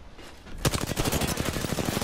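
Automatic weapon fire in the video game Apex Legends: a quiet moment gives way to a sustained, rapid stream of close, loud shots that continues to the end.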